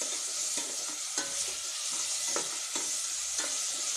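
Amla pickle with melting jaggery is stirred in a pan, giving a steady low sizzle with a spoon scraping through it at a loose, repeating rhythm. No voices.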